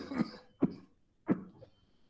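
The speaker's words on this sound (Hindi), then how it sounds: "खांसी हो गई मुझे।" Three separate coughs from one nearby person, spaced roughly half a second apart, the first harsher and more drawn out, with quiet pauses between.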